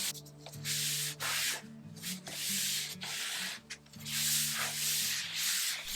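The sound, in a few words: sanding a painted wooden surface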